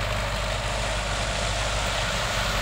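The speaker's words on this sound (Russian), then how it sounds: "Тракторист косит профессионально." A tractor mowing grass, its heavy diesel engine droning steadily and close by, with a broad rumbling roar and no talking.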